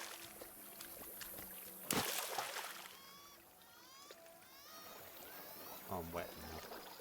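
Game character wading and splashing through water in the survival game Nightingale, soft sloshes and pouring trickles that swell near the end, with faint chirping calls in the background and no talking.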